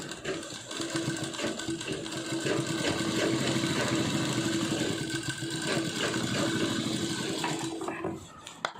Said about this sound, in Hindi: अब हम लोग इस पर सिलाई लगाएंगे।